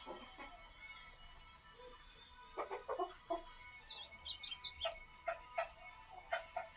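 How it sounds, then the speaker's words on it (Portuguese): Azulão, the blue grosbeak, sings in a quiet outdoor setting: short, faint chirps and whistled notes come in irregular bursts over a low background hiss. "Graças a Deus o Venom tá cantando ali."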